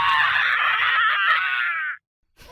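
Prolonged, harsh scream of a tortured man in an animated comic, one loud sustained cry lasting about two seconds before cutting off abruptly, followed by a brief noise.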